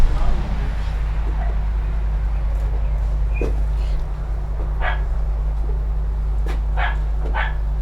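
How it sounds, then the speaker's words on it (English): A few sharp dog barks ring out at a distance over a steady low hum and background murmur, heard during filming on a film set. "Somebody needs to take care of that dog."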